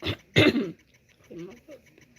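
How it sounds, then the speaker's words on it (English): Two short, rough throat-clearing bursts up close, followed by a quieter murmured vocal sound. "Clear my throat."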